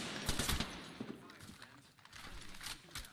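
Apex Legends firefight heard at a distance: faint, scattered bursts of gunfire under low background noise, with a voice talking.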